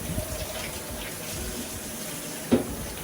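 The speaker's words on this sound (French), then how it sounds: "I'm gonna rinse the rice. Je vais remettre de l'eau tiède." A kitchen tap runs continuously while rice is rinsed, a close, steady rush of water with a brief splash near the end and no talking.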